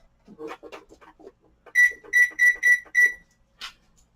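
A digital kitchen timer set while a keto pie crust goes into the oven: a run of short button beeps, then five loud, evenly spaced electronic beeps, with a soft rustle between.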